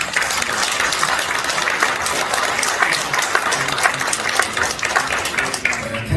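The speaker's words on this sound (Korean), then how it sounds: "뜨거운 박수로" Sustained, dense applause from an audience at the World Korean Foundation's 10th anniversary forum, welcoming a newly inaugurated chairman; steady and loud throughout, with no pauses or talk over it.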